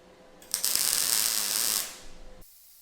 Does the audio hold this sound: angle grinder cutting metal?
yes